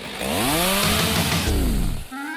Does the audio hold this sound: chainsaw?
yes